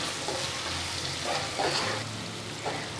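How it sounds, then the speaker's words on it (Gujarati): Potatoes, onions and sliced capsicum fry on a low stove flame, giving a soft, steady sizzle with a few faint crackles and spits. No one speaks. "સ્ટવની ફ્લેમ સ્લો રાખીને બટેટા, કાંદા તેમજ કેપ્સિકમને હળવા એવા ચડવા દઈએ"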